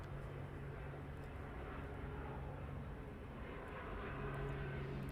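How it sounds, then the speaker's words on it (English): A plane's engines approach East Midlands Airport at night, a steady, distant roar that swells slightly toward the end with no voices. "now you can hear the engines"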